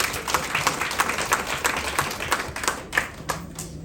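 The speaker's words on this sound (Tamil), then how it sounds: "அவங்களுக்கு பாராட்டு கொடுங்க" An audience at a marketing seminar claps in steady applause, many hands close together with a few sharper claps standing out, and no talking.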